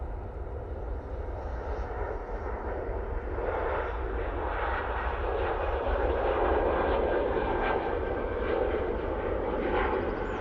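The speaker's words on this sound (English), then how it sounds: "So yeah, Emirates on its downwind leg." An Emirates airliner flies its downwind leg near Manchester Airport, a deep continuous engine rumble that swells slightly and stays loud and steady, with no voices.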